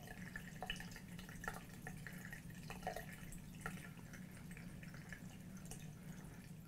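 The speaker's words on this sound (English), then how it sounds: "And as you can hear, now it's draining again." Water drains from a Westinghouse electric water heater tank during maintenance. It makes a faint, steady trickle with light drips, heard quietly and without talk.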